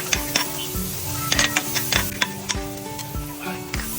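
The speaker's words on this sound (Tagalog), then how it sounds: "magigisa na tayo ng bawang, ng sibuyas" Garlic and onion sautéing in a pan, a near, steady sizzle broken by irregular metallic clinks and scrapes of a utensil stirring against the pan, with no voices.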